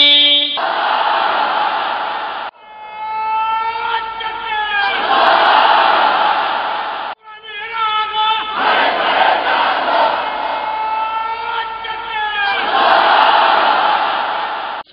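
A large crowd at an Islamic religious lecture roars the takbir in unison, two long sustained bursts of massed voices separated by brief pauses, loud and close.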